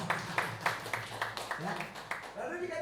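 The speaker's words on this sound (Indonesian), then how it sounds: "Tepuk tangan buat kita semua." Rhythmic clapping from a congregation at a church service for elderly members, about ten evenly spaced claps, moderately loud, followed by a voice speaking.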